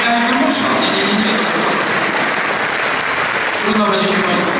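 Dense, loud applause from a concert audience at an Independence Day concert in Warka, Poland, a steady wash of clapping that holds evenly for several seconds.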